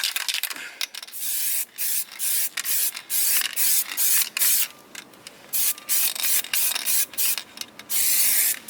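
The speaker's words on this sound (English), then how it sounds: "It's dry enough where I can apply the first coat of primer, so I'm going to do that now." Transtar 2-in-1 2K primer sprayed from an aerosol can onto a car body during rust repair, a close loud hiss in repeated short bursts of about half a second each with brief gaps between passes.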